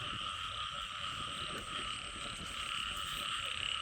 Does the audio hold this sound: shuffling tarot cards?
no